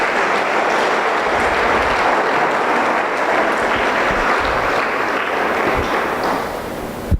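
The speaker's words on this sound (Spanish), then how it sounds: "Un fuerte aplauso para el Señor en esta mañana." Loud, sustained applause from a church congregation praising the Lord during a morning service, a dense steady wash of clapping lasting several seconds before stopping abruptly.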